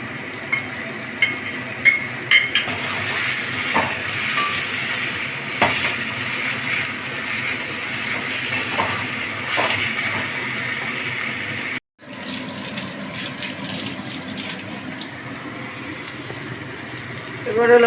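Garlic and ginger paste frying in a pan for mutton curry, a continuous close sizzle with stirring clinks and occasional taps, a brief cut partway through, then the frying carries on.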